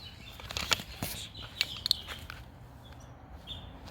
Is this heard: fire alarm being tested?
no